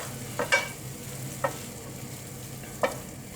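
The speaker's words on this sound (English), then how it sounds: "You can just hear this starting to crackle now, which means that it's browning a little bit" Food for a smoked paprika lasagne browns in a pan on the hob, giving a soft, steady sizzle with a few sparse, sharp crackles and pops standing out.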